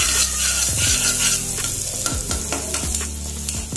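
Onions and green chillies frying in a pan with a little turmeric: a bright continuous sizzle with repeated sharp metal clinks and scraping of a spoon against the pan, no speech.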